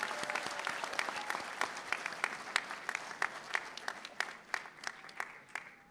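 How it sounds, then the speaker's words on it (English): Steady audience applause at a university commencement ceremony in Grenada, many hands clapping in a dense, crisp patter at moderate distance, with sharp individual claps standing out as it tapers off. "Let us give them a round of applause for their hard work."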